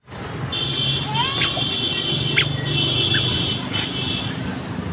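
A vehicle passes along a wide highway with a rising and fading engine rumble, mixed with sharp high tones and clicks over the road noise.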